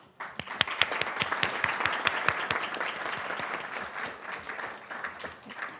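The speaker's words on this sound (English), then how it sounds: "So let's give them a big applause." An audience applauds panelists after a data discussion session, a crowd of hands clapping briskly after a sudden start, with a few louder close claps standing out and the applause slowly thinning.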